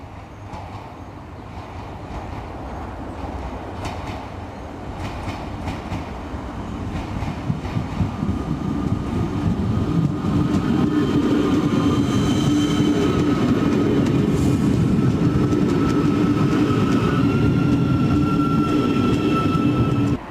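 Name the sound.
Euskotren train unit 960 passing toward Bermeo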